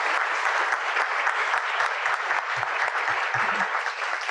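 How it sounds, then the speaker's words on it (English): Warm applause from a lecture audience at a university talk, steady dense clapping throughout, moderately loud and sustained without voices. "And a warm applause to Sally one more time."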